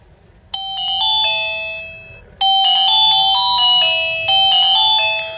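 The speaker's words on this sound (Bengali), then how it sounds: "ফোনটির যে রিংটোনের সাউন্ড, এটা বরাবরের মতোই আমরা একটু শুনবো যে ফোনটির রিংটোনের সাউন্ড কেমন ছিল" A Lava A1 Josh button phone plays a loud, bright electronic ringtone melody in two bursts with sustained chiming tones, with a short gap between them and no talking.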